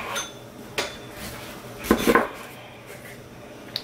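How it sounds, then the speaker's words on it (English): A knife chops a small piece of onion into little pieces on a cutting board, giving a few sharp, separate knocks followed by a quick cluster of close, crisp cuts, with no one talking. "I'm just literally gonna just chop it up in little pieces."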